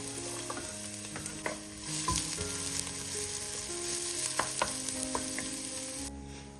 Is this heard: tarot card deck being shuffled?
no